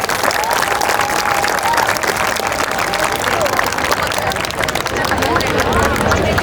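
Loud, dense audience applause at a school alumni meet, a continuous wall of clapping from a large crowd lasting the whole stretch, with a murmur of voices and scattered cheering mixed in.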